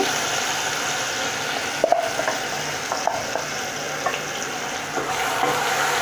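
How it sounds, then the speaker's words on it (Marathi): Onion and masala paste for Punjabi chole frying in oil, a steady soft sizzle with occasional spoon stirs and scrapes against the pan, close and continuous with no talking. "तेलामध्ये असं तेल सुटेपर्यंत चांगली भाजून घ्यायचे"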